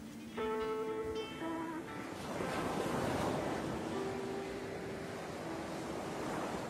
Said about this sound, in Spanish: Esta es la marea.